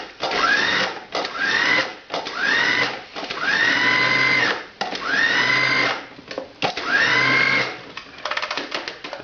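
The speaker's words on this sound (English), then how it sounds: "we're going to grind this up just enough to incorporate the meat" Meat stuffing with salt and black pepper whirs in a grinder or processor in several loud bursts, each with a rising motor tone that steadies and then cuts off, separated by brief pauses.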